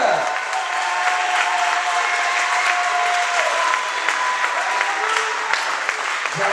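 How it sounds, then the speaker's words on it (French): A thunderous round of applause fills the room at a presentation event in Port Camargue, loud and dense from start to finish, with a faint tonal hum and scattered voices mixed in beneath the clapping. "Je vous demande un tonnerre d'applaudissements, s'il vous plaît pour Jean-Loup."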